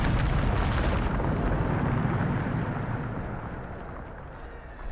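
A Bombarda spell explodes in Hogwarts Legacy, a loud rumbling blast at the start that fades into a long decaying roar over several seconds.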